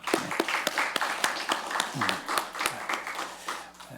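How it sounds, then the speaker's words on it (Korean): Church congregation clapping in encouragement for the men's group members, sharp distinct claps spread through the hall, fairly near and uneven in rhythm, with some murmured voices underneath. "우리 남성교회 회원들 다시 한번 격려의 박수 한번"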